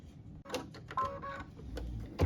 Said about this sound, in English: what we're stitching now is the "Oh Holy Night" words on here